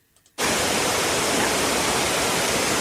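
Steady broadband white noise for masking background sounds, starting abruptly after a brief quiet moment and holding constant and loud, like a humming air conditioner or refrigerator.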